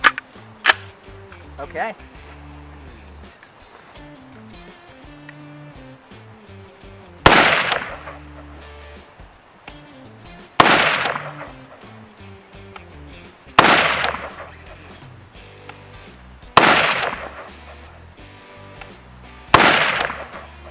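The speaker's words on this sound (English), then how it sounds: "I'm gonna shoot this thing from the cheek at 100 yards" A 300 Blackout AR pistol fired at 100 yards outdoors, five sharp loud shots spaced about three seconds apart, each with a short echoing tail, after a brief spoken word and some low background hum.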